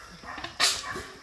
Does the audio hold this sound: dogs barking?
yes